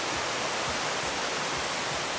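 Steady broadband rush of a brook flowing along half a mile of woodland waterfront frontage on a farm in Ludlow, Maine, continuous and even throughout with no voices or other sounds.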